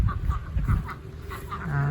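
Light Sussex chicken in its backyard run, soft clucks and low fowl murmurs repeating over outdoor background noise, close by and moderately quiet.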